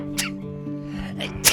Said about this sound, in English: he goes on a sneezing.